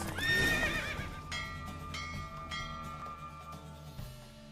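A horse neighs and whinnies over clip-clop hoofbeats during a horse race in the video game The Witcher 3: Wild Hunt, a loud whinny at the start giving way to steady galloping with a sustained tonal hum beneath.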